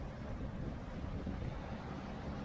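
A sailboat motors under engine power through a harbour channel, with a steady low engine drone and water wash over constant wind buffeting on the microphone, and no speech.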